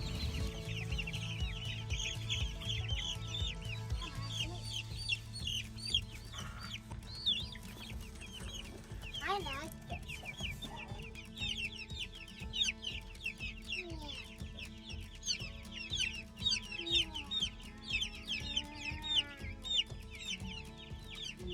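Several chickens in a chicken tractor between rows of Christmas trees cluck and chatter continuously in a busy, overlapping chorus, with a low rumbling hum running underneath.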